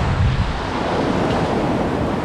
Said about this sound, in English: it's a little bit wavy today